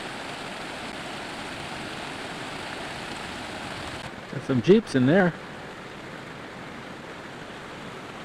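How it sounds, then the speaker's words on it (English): Steady rush of a Colorado mountain creek in autumn fills the background, with someone briefly speaking over it partway through. "Water we keep hearing in the background is this creek"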